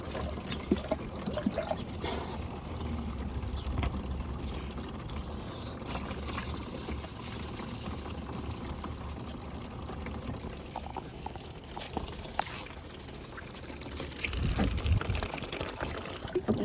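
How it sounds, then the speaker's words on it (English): A homemade toilet built from a 5 gallon bucket slowly refills with water, a steady trickling pour running throughout at moderate volume, with a few clunks near the end. "This thing feels like it's filling slow now."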